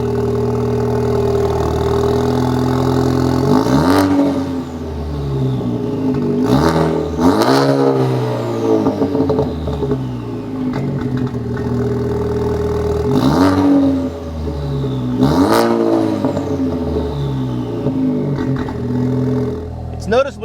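Ford Focus ST (2013–2018) engine with an MBRP off-road catless downpipe, idling and then revved several times in sharp blips that rise and fall, loud and close with a steady rumbling idle between revs.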